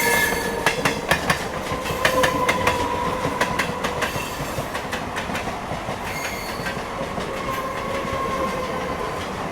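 The Sairang Rajdhani Express rolls slowly on a rail journey, heard from a First AC coach. Steady rumbling carries rhythmic clickety-clack wheel beats and faint squealing tones. It runs loud and alone, with no voices.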